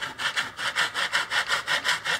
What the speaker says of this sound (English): This saw is terrible, but I should be able to cut through like